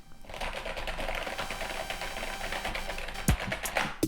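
Rapid, continuous clatter of keys on a Logitech G213 Prodigy keyboard, fairly loud and close, with a few sharper thumps near the end and no talking.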